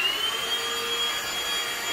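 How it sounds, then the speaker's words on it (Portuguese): A vacuum cleaner runs steadily while cleaning a bedroom, a close, continuous whirring roar with a thin high whine held throughout and no talking. "Então vou passar o aspirador aqui pra ver se ele pega,"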